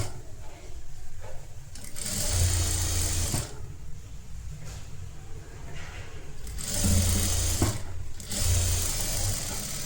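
A sewing machine stitches a hook strip on a netted blouse. Several short, loud whirring bursts come close up and alone, separated by quieter pauses with light handling.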